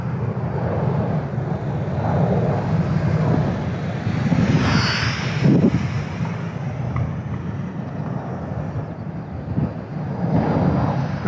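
Eachine Zero Micro Warbird RC plane buzzes overhead in the wind, a thin motor drone that swells as it passes close and then fades, under steady wind rumble on the microphone with no talking.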